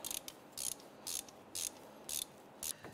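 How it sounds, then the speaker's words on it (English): A ratchet wrench tightens a bolt on a leveling kit for a 1997-2006 Jeep Wrangler, giving about six short, close bursts of rapid clicking at a steady rhythm. "Let's go ahead and tighten this bolt down."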